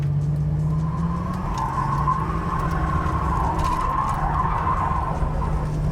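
A 1987 Buick Grand National drifts while turning around, its tires squealing in a long, steady screech over a close engine drone, with no voices.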